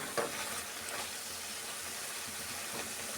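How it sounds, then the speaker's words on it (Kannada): Mint chutney ingredients fry in a pan with a steady, dense sizzle, with a few soft stirring scrapes near the start and end. "ಈ ಥರ ಚೆನ್ನಾಗಿ ನಾವು ಫ್ರೈ ಮಾಡ್ಕೊಬೇಕು"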